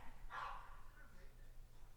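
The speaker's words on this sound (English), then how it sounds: "It sounds like a small dog." A small dog gives a single short bark, heard fairly faint and distant against a steady low background hum.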